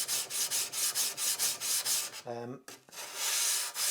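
A soft sharpening stone grinds against a forged katana blade in rapid back-and-forth strokes, close and rhythmic with a short break and a brief tonal ring midway before the scraping resumes.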